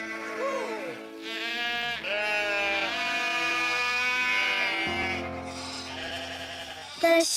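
A sheep bleats in long, wavering cries, loud and near, one drawn-out call after another with only short breaks between them.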